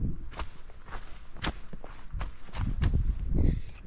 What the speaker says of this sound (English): that's the sound of water in my shoe every time I step